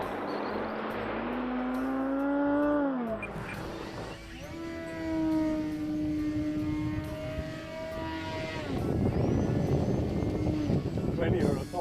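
A Flex Innovations Cessna 170 RC model airplane on 6S battery power flies overhead with an electric motor whine that rises and falls in pitch as it passes, loud and fairly near, while someone talks over it.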